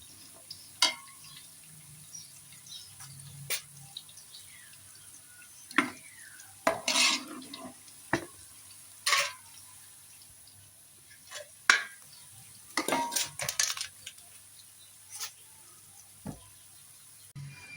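Garlic and ginger paste frying in a home kitchen pot with ground onion, a soft sizzle under scattered clinks and scrapes of a spoon stirring against the pan, close and fairly quiet.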